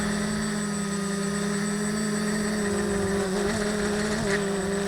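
A small remote-controlled aircraft in flight on a waypoint course, heard as a steady, continuous motor drone with a strong sustained hum, loud and unbroken throughout with no talk.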